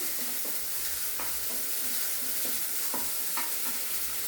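Soaked sago pearls frying and being stirred in a pan, a steady close sizzle with periodic scraping stirs throughout.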